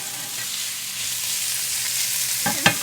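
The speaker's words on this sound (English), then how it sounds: "So I'm sauteing about half of the onions" Onions sauté in a pan for a Persian lamb and split pea stew, a steady soft sizzle throughout, with a couple of utensil scrapes and taps near the end.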